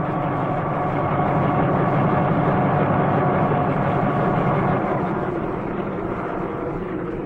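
An older helicopter with a whirling rotor and engine, a steady dense drone that holds unbroken and loud throughout, slightly easing toward the end.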